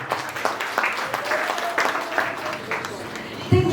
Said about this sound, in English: A round of applause for our kids.